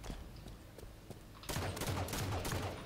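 A shotgun in Halo 5 Guardians, doubles match, fires after a quiet stretch, then a dense burst of heavy gunfire and blasts follows, fairly loud and close.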